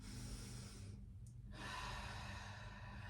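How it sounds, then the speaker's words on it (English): A single deep breath in, taken close to the mic during a stretching workout, with a soft airy rush around the middle of a quiet stretch and no talking. "Deep breath in."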